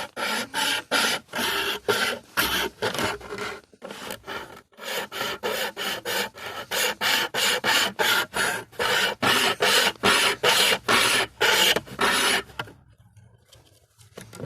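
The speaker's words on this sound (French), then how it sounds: "Je mets la scie." Rhythmic back-and-forth rasping of a hand saw cutting through bamboo for a harpon, fast regular strokes close by, with a brief pause midway and stopping near the end.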